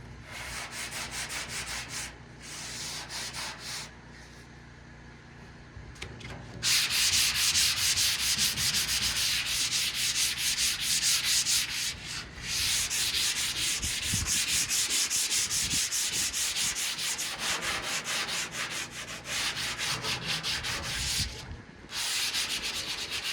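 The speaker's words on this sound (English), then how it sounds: "I'll sand this down" Power sanding on a trapping and hunting trailer under restoration, a steady loud abrasive grind that runs almost continuously with a few short pauses and a quieter stretch early on.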